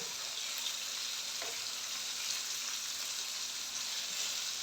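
Breaded fish fries in a pan with a steady, fairly faint hiss of oil as the pieces are flipped, a soft bump or two over the even sizzle, with no voices.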